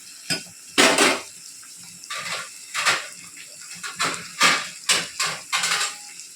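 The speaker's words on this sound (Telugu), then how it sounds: "మగ్గే వరకు మనము కొంచెం ఒక ప్లేట్ అనేది పెట్టేసుకొని" A plate set over a pan of frying chicken, a series of loud metallic clanks and clatters in quick irregular succession, close by, with a faint sizzle underneath and no talk.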